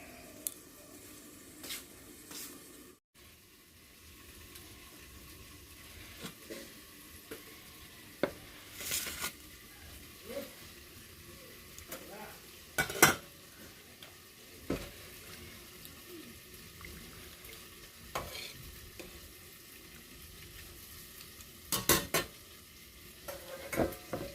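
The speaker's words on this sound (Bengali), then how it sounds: "বেগুন ভাজা শেষের দিকে" Eggplant fries quietly in a pan, a steady close sizzle with occasional sharp clinks and scrapes of a spatula stirring.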